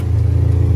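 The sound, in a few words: Polaris RZR side-by-side engine revving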